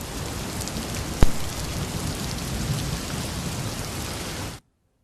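Heavy rain falling on fields: a dense, steady hiss of downpour with one sharp crack near the start, continuing evenly until it cuts off abruptly.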